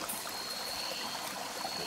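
Cold, fresh water in a rainforest mountain stream runs steadily with a bright, even hiss and trickle. The flow is close and continuous, with no voices.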